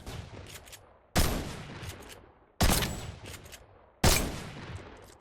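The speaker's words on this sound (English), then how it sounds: "Your shotgun makes different sounds the lower it gets, so you can know when to reload." Three loud, evenly spaced shotgun blasts from Fortnite, each a sharp crack with a decaying tail, their tone shifting as the weapon's ammunition runs low; no talking.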